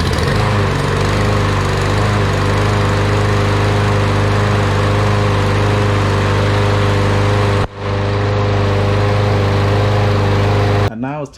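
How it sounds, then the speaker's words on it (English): A Craftsman lawn mower engine runs loudly and steadily up close, a droning hum with a brief dip near the end before cutting off. "just start so I can start up the lawnmower"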